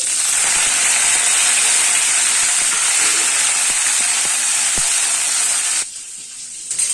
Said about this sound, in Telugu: ఇలా జీలకర్ర ఆవాలు వేసేసుకొని ఫ్రై చేసుకోవాలి ఇలా చిటపటలు ఆడిన తర్వాత